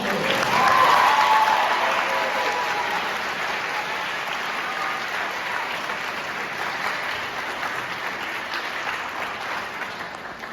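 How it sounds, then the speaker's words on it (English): Applause from a convocation audience at an arts school, broad and steady, swelling loudest in the first two seconds and then holding at a slightly lower level for the rest. "Give yourself a round of applause."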